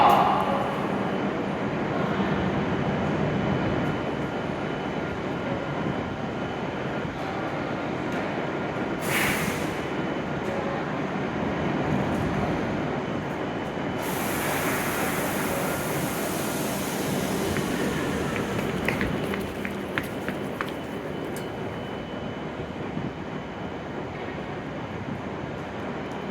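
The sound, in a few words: E7 series Hokuriku Shinkansen Kagayaki train arriving at Kanazawa station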